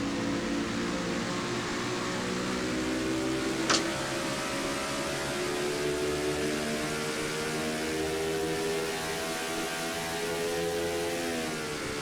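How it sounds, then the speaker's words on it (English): A steady engine roar with rising and falling pitch, as stock cars in a sim racing video game drive through corners, loud and continuous with no talking. "you can just hear how these cars roar into the corners"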